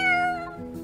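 Tofu, a cartoon cat in the game Avatar World, lets out a single clear, close meow with a bright rising-then-falling tone, sounding alone for under a second.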